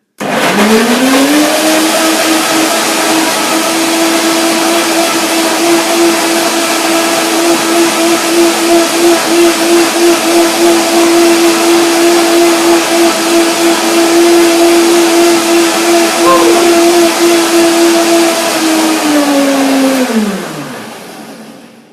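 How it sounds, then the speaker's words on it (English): A blender blending bananas and lemon whirs at high speed with a steady motor whine for about twenty seconds, then winds down as it switches off. "But now the blender dance can begin."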